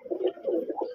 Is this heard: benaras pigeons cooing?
yes